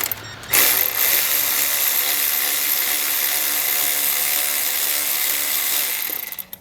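Ratchet wrench working on the clamps of a Polaris RZR Pro XP charge tube, a steady continuous mechanical whir close up that runs for several seconds after a sharp start, with no talking.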